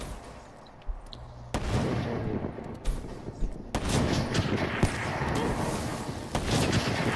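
Gunfire in the video game Call of Duty: Black Ops III, a dense run of sharp, loud shots and bursts that keeps going for several seconds after a quieter start.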